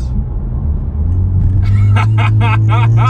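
A Kia Stinger in sport mode gives a deep, steady engine rumble from inside the car. It swells louder partway through, and laughing voices break in over the drone.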